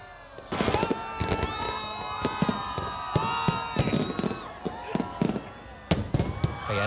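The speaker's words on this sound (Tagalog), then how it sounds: "literal na nagliwanag at napuno na makukulay na fireworks ang kalangitan." Loud New Year fireworks over Boracay island at midnight, with rapid cracking bursts and booming explosions crowding close together, crackling tails between them, and a cheering crowd underneath.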